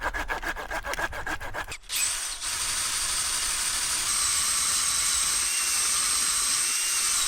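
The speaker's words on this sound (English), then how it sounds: "Okay, now that I've got the hole drilled down the center, I'm going to try to drill in from the side." A drill bores a hole into wood for a bushcraft rocket stove, starting with rapid rhythmic grinding strokes, then a brief pause before a continuous high whining drill sound runs steadily and close.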